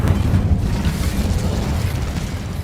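The Incendio fire spell in Hogwarts Legacy bursts out as a loud, rumbling blast of roaring flame that sustains heavily throughout.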